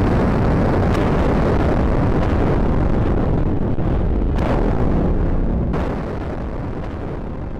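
Massive blast of 18,000 kilograms of explosives detonated in a tunnel under the Hawthorne Ridge Redoubt, a loud continuous deep roaring rumble that churns on for several seconds before easing slightly, no talking.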